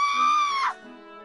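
A long, high, sustained scream from a mother as part of a told children's story about a lion, holding for over half a second before breaking off, then a softer low voice follows.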